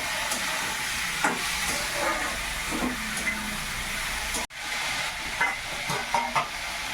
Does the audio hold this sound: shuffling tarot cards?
no